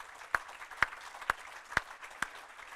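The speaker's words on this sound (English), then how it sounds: "You have to give yourself a round of applause" Five slow, evenly spaced hand claps ring out faintly, one person clapping alone in a quiet room.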